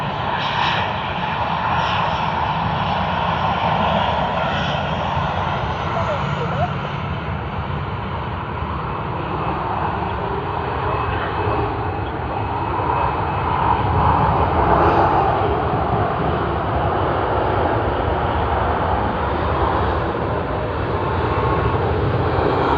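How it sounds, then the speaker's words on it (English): Aircraft engines roar steadily at Sydney Airport, a loud sustained jet rumble and whine that swells slightly midway, with no voices. "Wow, planes everywhere."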